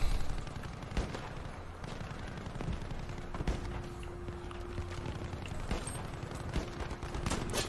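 Gunfire in the video game Battlefield 5, scattered sharp shots and short bursts spread irregularly over several seconds, moderately loud against a rumbling battlefield background.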